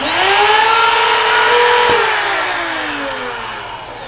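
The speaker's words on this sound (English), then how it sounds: "There are two independent routers on each side of the machine that trim off the leading edge of the dovetail." Twin routers on a dovetail machine trim the leading edge of a dovetail, giving a loud, steady high-pitched whine whose pitch falls as the cut finishes, with no talk.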